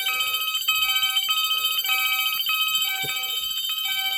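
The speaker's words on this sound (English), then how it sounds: "It's a fire alarm party." Fire alarm bell driven by a 1989 Moose Z900 alarm panel rings loud and steady and close, a continuous metallic clanging with a regular pulsing pattern and no voices.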